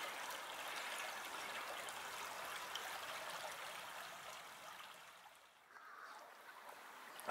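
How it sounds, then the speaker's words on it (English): A babbling brook in the hills near Hergest Ridge and Offa's Dyke keeps up a steady, close, hissing trickle and gurgle of running water that dips briefly near the end, with no talking. "A babbling brook."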